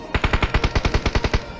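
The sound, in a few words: gunfire in a video game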